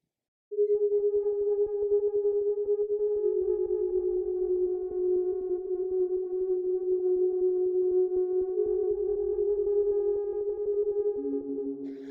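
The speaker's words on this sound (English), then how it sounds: "So without the LFO and the envelope, it sounds something like this." A steady, static synth pad tone without LFO or envelope modulation holds one note throughout, plain and unmodulated, with a slight pitch step near the end and no other sounds.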